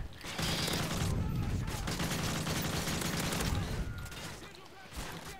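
Gunfire in a shooter video game while firing at enemies, a dense, continuous fusillade of rapid shots that fills the clip and tapers off near the end.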